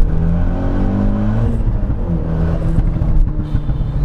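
The forged, 330bhp Renault Megane R26 hot hatch accelerates hard with a loud, close engine roar that rises and wavers for a few seconds, heard from inside the car.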